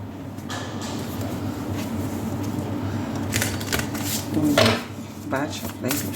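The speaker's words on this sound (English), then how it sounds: "Bad shuffling. It happens with the nails." A deck of tarot cards is shuffled in soft, irregular riffling and flicking bursts, with a few louder slaps near the end, over quiet room noise.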